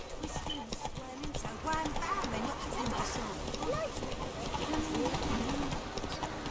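Hooves clip-clop steadily as the horse Roach gallops in The Witcher 3, a rhythmic, moderately loud beat heard under a voice talking over game music.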